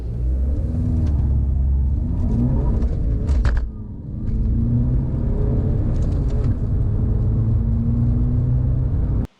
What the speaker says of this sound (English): Let's do a 0 to 60 and see what this car can do.